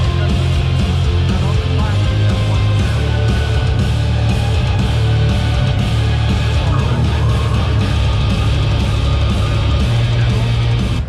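Heavy section of a metal song played loud and dense at the Waves booth at NAMM 2020, a wall of distorted guitars and pounding low end filling the whole stretch without pause.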